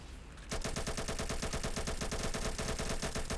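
Rapid automatic gunfire in a Roblox war game bursts in after a brief quiet moment, a dense rattling stream of shots continuing to the end.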